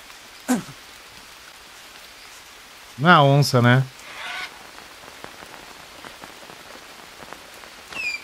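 Steady rain falls in the survival video game Green Hell, a constant hiss of drops with scattered animal-like honks. A person speaks briefly in the middle.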